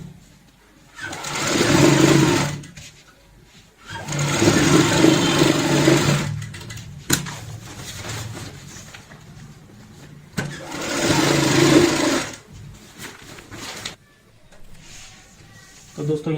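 Sewing machine stitching velvet fabric for a travel bag, running in several loud bursts of a few seconds each, separated by short pauses and clicks.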